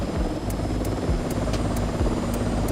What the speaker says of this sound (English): I hear a helicopter, but I don't see it.